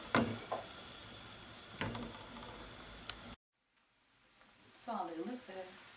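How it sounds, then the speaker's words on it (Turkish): Chopped onions sautéing in a hot pan on the stove, a steady close sizzle with occasional stirring clicks, then a pause and quieter hiss as someone speaks briefly. "Kavralım soğanlarımızı."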